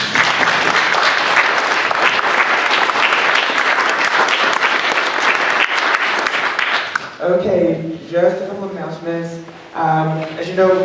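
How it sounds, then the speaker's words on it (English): Sustained audience applause after a conference panel fills the first seven seconds, then fades as a voice begins speaking over the last few seconds. "Another round of applause."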